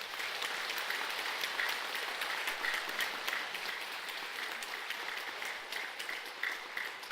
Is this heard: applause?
yes